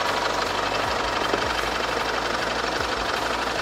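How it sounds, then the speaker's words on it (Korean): A SsangYong G4 Rexton 2.2 diesel 4WD engine idles steadily nearby, a constant low rumble with faint rhythmic knocking and no voices. "엔진 소리 일정하고 좋습니다"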